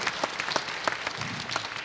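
Audience applause at a performing arts center, a brief burst of scattered, crisp individual claps at moderate distance, fairly quiet and uneven.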